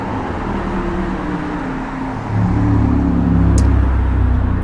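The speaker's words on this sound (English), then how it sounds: "Always traffic here downtown in Croswell" Downtown street traffic in Croswell rumbles past, a low engine drone that swells as a vehicle nears about midway and stays heavy to the end.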